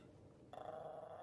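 A dog growls low and steady, the rumble starting abruptly partway through and holding close and loud to the end.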